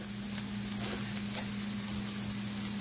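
Garlic frying in a pan for a tin mackerel dish gives a steady, close sizzle with soft crackling throughout, alongside a constant low electrical hum and no voices.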